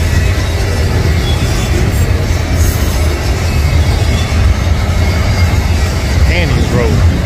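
Union Pacific westbound mega stack train with three mid-train DPUs rolling on the Kansas sub at Bonner Springs, Kansas, a loud, continuous rumble and wheel roar close by, with faint squeals toward the end.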